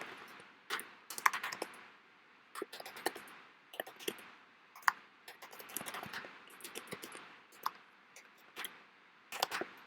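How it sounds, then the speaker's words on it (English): Irregular bursts of light clicky keystrokes on a computer keyboard while typing text, faint and close, with short pauses between runs of keys. "Obviously you can type just normal text."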